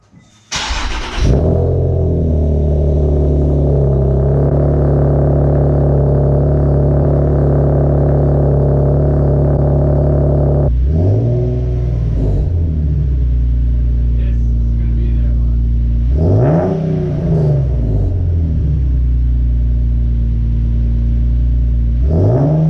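A 2018 Nissan 370Z with long tube headers and a Fast Intentions exhaust cold-starts with a sharp bark, then settles into a loud, steady high idle, broken by a few quick throttle revs that rise and fall.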